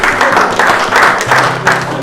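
Audience clapping at a royal court gathering, several loud rhythmic bursts of hands pulsing about every third of a second, with a voice briefly underneath.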